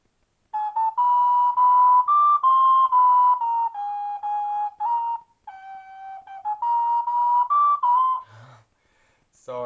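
Little Wing ocarina plays a slow melody of pure, breathy whistle-like notes, sustained and legato with small pitch slides, close and moderately loud, ending in a few scraps of handling noise.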